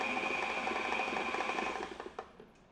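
A stand mixer drives its paddle through holiday cookie dough with a steady, close motorized whir that fades out near the end into a few soft knocks.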